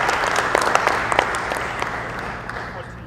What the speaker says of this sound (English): So they deserve a big round of applause for it.